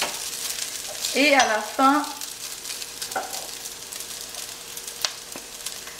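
Fried rice with scallions sizzles in a pan, a continuous close frying hiss with a couple of brief scraping stirs. A person speaks French briefly over it.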